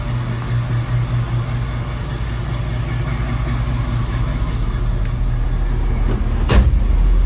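Steady engine drone inside a 1972 Chevrolet K5 Blazer out on a drive, low and constant with slight rises in revs, then a sharp click near the end.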